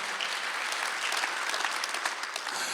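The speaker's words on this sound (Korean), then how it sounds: "박수 해주세요." A church congregation at a Sunday worship service bursts into sustained, even applause, many hands clapping at a steady loud level throughout.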